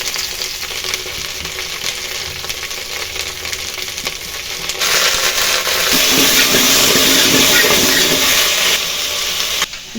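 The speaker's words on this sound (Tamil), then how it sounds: "இதோட காய்கறிலாம் போட்டு வறுத்துக்கணும். நல்லா இப்போ நல்லா வறுத்துக்கணும்." Vegetables sizzle and crackle in a hot pan while making sambar, the frying growing louder and steadier midway with a constant hiss.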